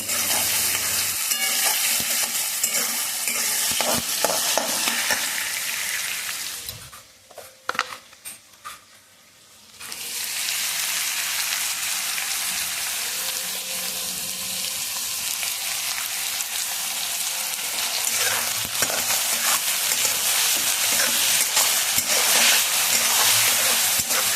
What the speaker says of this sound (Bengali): আর এবার কড়াইতে তেল দিয়ে দিয়েছি আলুগুলোকে ভেজে নেব